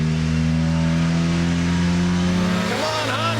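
Honda Civic hatchback engine revving on a dyno, holding a loud steady drone before climbing sharply in pitch near the end. A voice is briefly heard.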